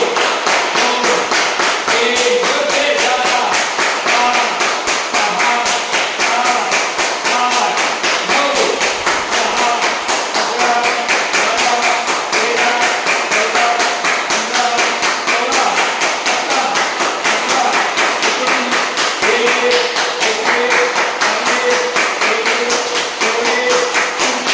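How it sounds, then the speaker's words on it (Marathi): Rhythmic group clapping during a live full-body yoga session, a steady run of about 25 sharp, even claps filling the room at a brisk pace with no talking over it. "25 टाळ्या"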